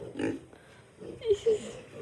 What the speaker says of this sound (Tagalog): Parang matapang yung baboy na yan, ah.